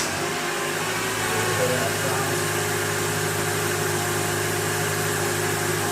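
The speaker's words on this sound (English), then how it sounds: "So I'm going to just turn the key and let it run." Car engine cranked and running on a Honda starter with worn brushes, a loud, steady mechanical drone with a constant low hum throughout, close and unbroken, with no talk over it.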